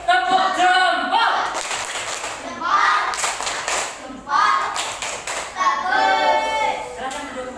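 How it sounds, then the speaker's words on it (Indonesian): Classroom applause for group ABC: bursts of children's hand clapping mixed with lively young voices and chatter, near and moderately loud, recurring several times. "Oke, tepuk tangan buat kelompok ABC."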